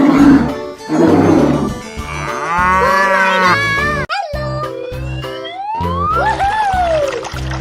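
A cow moos in a long, loud, drawn-out call in a game with animal transformations, followed by rising and falling animal calls and a roar-like sound, with no talk over it.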